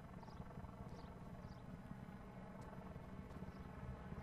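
Helicopter in the Just Cause 3 game, a steady whirring rotor drone with faint rhythmic chopping, fairly quiet and continuous without speech.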